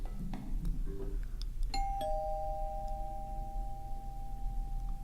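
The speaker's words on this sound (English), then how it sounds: "Thought I heard the doorbell ring too a couple of nights ago." A household doorbell chimes once with a two-note ding-dong, the second tone ringing out long and steady over a constant low background hum, with no talk.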